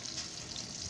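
Onion and tomato fry and sizzle in a pan as they are stirred, a steady close hiss with faint scraping throughout one short second, no voices.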